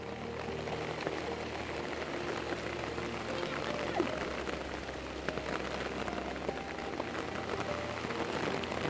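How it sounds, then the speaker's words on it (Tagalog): Heavy rain pours down steadily over a sweet potato field, a dense wash of drops with faint voices murmuring underneath throughout. "Abutan kami ng malakas na ulan."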